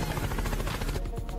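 Helicopter in the Roblox video game: a loud, pulsing rotor chop with rapid regular thumps, heard up close for a brief moment before it thins out near the end.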